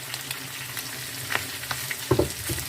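A pea soup base of onion is frying in a pan as carrot goes in and gets stirred, a close crackling sizzle broken by a few spatula knocks toward the end, with no talking.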